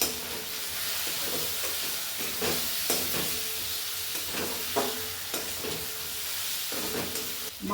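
Ginger, garlic, tomatoes and ground spices fry in oil for a village-style mutton and potato curry, giving a loud continuous sizzle and hiss with intermittent stirring scrapes, close up and without talk.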